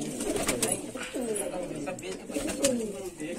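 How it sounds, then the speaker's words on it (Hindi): Several desi pigeons coo in low, repeated rolling calls, close by, in Daraganj, Prayagraj, with rustling and faint background noise throughout. "सब इलाहाबादी देसी कबूतर हैं"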